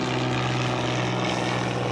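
Beech 18 twin-engine warbird at a hangar, propellers running with a steady, loud droning roar and constant throb, close by and with no pauses.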